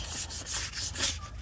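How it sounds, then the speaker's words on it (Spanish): Light, quick strokes of 400 grit sandpaper rub back and forth over a primed car wheel rim in a steady rhythm, close by. "le damos una lijadita muy suave con una lija 400"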